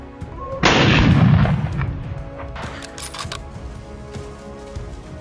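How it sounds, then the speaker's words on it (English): A single loud gunshot during a wild boar hunt outdoors, a sharp blast with a long rolling boom, followed by fainter sounds of movement. "I immediately opened fire and took down the first wild boar."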